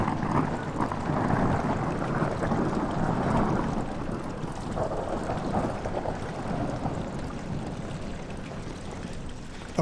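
A long, deep rumble of thunder rolls on through steady rain in the video game Amnesia: The Dark Descent, loud and continuous with no voices.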